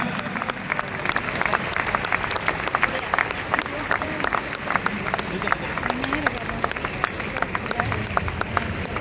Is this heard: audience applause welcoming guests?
yes